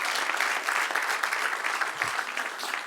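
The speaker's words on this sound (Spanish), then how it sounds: "Denle un aplauso al que es rey" Church congregation applauding during a Spanish-language Bible history class, a steady wash of clapping from many hands that fills the whole clip without pause.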